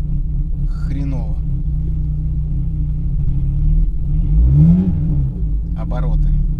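An old car's engine idles roughly with a deep, steady rumble, rising into an uneven rev and falling back, while someone talks over it nearby.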